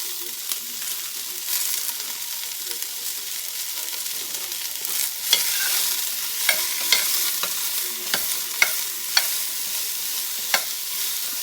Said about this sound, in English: I'm going to go ahead and put these vegetables in and let them be roasting just a little bit